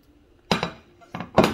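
A few quick clattering knocks of chopped vegetables, including carrots, dropping into a metal saucepan, in two short bursts, close and fairly loud.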